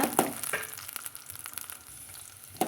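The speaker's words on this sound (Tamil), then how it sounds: "சின்ன வெங்காயம் போட்டுக்கிறேங்க இதை நம்ம வதக்கி எடுத்துக்கலாங்க" Small shallots sautéing in a pan for a mushroom gravy, giving a steady soft sizzle with occasional stirring scrapes, close and fairly quiet, with no talking.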